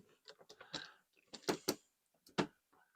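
A part of a break-barrel air rifle gas ram conversion kit is screwed into place by hand, giving close, quiet ratcheting clicks and small creaks in short irregular bursts.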